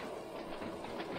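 Train in the Train Sim World video game accelerating at night on the Island Line, a steady dense rolling rumble with faint rhythmic clatter, continuous and fairly close.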